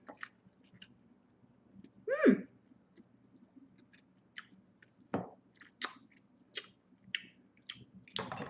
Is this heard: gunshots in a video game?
no